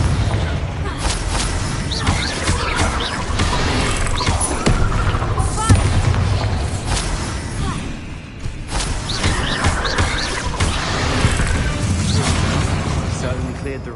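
A Confringo blasting curse explodes in Hogwarts Legacy, a dense, continuous roar of crashing and booming debris across the whole stretch, with sharp bursts standing out amid loud, busy game noise.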